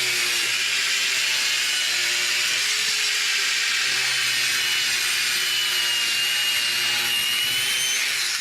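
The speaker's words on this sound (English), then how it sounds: "I'm dropping in the sink right here, and you see I'm going to do a plunge cut." A DualTools CS300 saw plunge-cuts a sink opening, a loud, steady, continuous cutting whine that runs unbroken from start to finish, with no talking.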